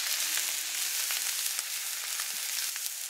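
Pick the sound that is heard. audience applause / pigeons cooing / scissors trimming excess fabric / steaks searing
steaks searing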